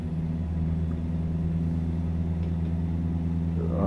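A truck engine in Euro Truck Simulator 2 holds a steady low drone, swelling slightly toward the end as it begins to accelerate, loud and close with no talk over it.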